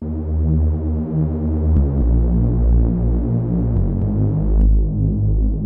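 Heavy, gritty synth bass drones on with a wobbling, detuned throb, its pitch stepping down a few times, loud and continuous with no voices.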